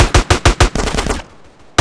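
Rapid automatic gunfire in GTA San Andreas, a close, loud burst of evenly spaced shots that breaks off, then a single further shot after a short pause.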